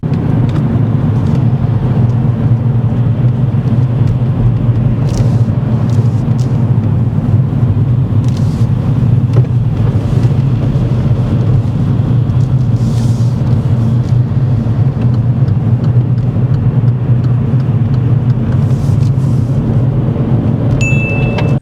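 A car cruises along a dual carriageway during a driving test, heard from inside as a loud, steady engine and road rumble with faint clicks and ticks over it.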